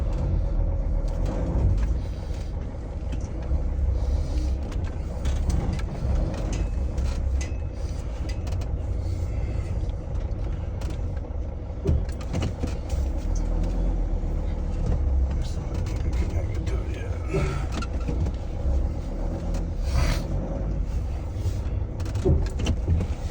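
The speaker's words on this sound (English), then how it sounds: "And now it's time for the test drive." A 2000–2006 Sprinter van drives on a test drive after a fuel regulator change, its engine and road noise a steady low rumble from inside the cab, with people talking over it now and then.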